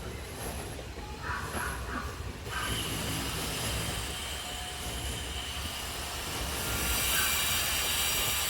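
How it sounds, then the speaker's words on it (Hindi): A passenger express train rolls past near Hajipur Junction with a loud continuous rumble of wheels on rails, faint squeals and rattles, growing a little louder toward the end, with no talk. "ट्रेन जाती हुई।"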